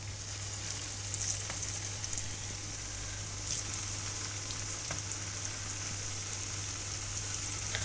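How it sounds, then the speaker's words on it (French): Makrouts, semolina pastries flavoured with lemon and vanilla, sizzle steadily in hot oil already used for frying, a continuous close crackle with scattered pops throughout and no talking. "je prends mes macroutes, je les pose délicatement dans l'huile bien chaude"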